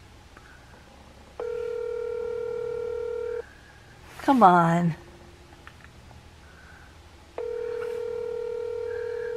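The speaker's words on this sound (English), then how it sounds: "Of course, they don't answer their phone." An unanswered outgoing phone call: a steady, evenly pitched ringback tone sounds for about two seconds, goes quiet, then starts again near the end, with a brief frustrated spoken interjection in the gap between rings.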